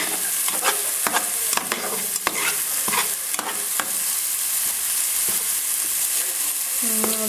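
Onions fry in a pan with a steady sizzle while a utensil scrapes and knocks against the pan in irregular strokes, close and fairly loud, with no speech over it.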